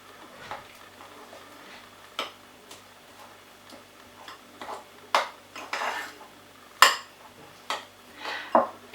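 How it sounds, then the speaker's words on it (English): A spoon or spatula works softened butter and finely chopped parsley in a bowl, making sparse, irregular taps and scrapes that are faint and close, with quiet gaps between the clinks. "So I'm just going to mix it to start to soften it."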